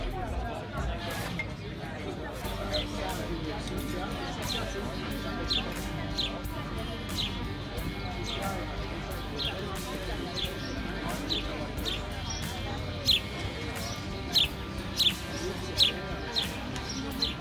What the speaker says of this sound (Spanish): aparecieron un montón de gorriones sobre las mesas